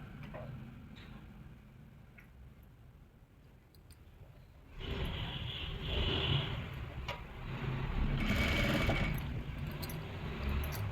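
A sewing machine runs top-stitching on a dhoti salwar, starting after a quiet ticking stretch and then whirring steadily in two longer bursts, close and fairly loud.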